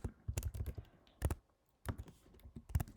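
Fingers typing on a computer keyboard while entering a new user's details, quick close bursts of key clicks with a short pause in between.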